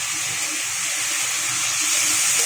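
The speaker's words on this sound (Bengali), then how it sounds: "শুটকি চিংড়িটা আমি এখানে ধুয়ে ভালো করে দিয়ে দিলাম" Water runs in a steady, close stream as dried shrimp are rinsed, a continuous gushing hiss with no break.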